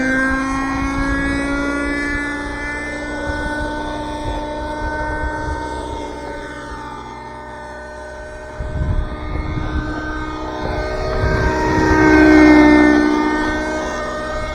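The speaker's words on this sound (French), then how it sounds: "premier vol de l'hélico. Le Raptor." A Raptor RC model helicopter on its first flight whines loudly with high sustained rotor and engine tones, pitch sliding up and down as it passes nearby, with a brief thump in the middle.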